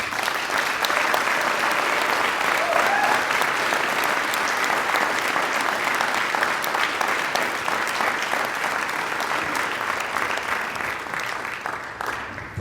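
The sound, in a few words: applause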